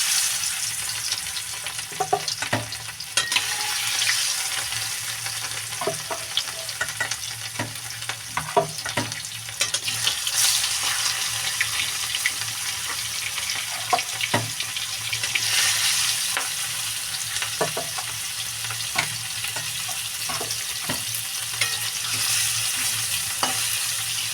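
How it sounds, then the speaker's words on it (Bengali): Pieces of rohu fish frying in hot oil in a pan: a steady close hiss and crackle of oil, with scattered clinks and scrapes of a utensil turning the fish, no talk. "তেলটা কিন্তু গরম হয়ে গেছে দিয়ে দিলাম মাছ"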